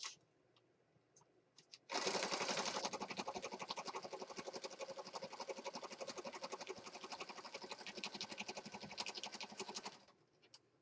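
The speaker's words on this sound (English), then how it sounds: "we're going to stitch around this outside edge" A sewing machine stitches around the outside edge of a junk journal card, running steadily with a rapid rhythmic chatter for about eight seconds before stopping, heard close and alone.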